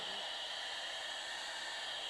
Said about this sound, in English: In the end, what you can't find or eat, you have to vacuum up.